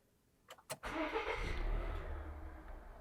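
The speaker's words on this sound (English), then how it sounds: "while we hold that, we're going to start the vehicle at the same time" A 2016–2021 Volvo XC90 starts up nearby: a couple of short clicks, then the engine cranks and catches, settling into a steady, low idle rumble.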